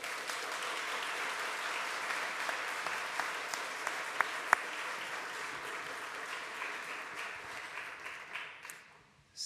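Audience at the Jacques Delors conference applauding steadily, a dense even wash of clapping from a large seated crowd that holds for several seconds and then fades out at the end.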